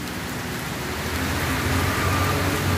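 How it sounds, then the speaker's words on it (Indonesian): Heavy rain pours steadily outdoors near a mosque on a coastal trip, a dense continuous hiss with no pauses and no talking. "Hujan."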